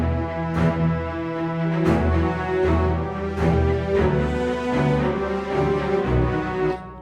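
The soloed melodic instrument group of an unprocessed mix plays on its own, with steady sustained chords and a melody line, plus regular bright accents about once a second.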